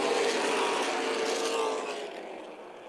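A pack of super late model race cars from the ARCA/CRA Super Series roars around Toledo Speedway. A loud, steady engine roar from the field fades slightly as the cars pull away.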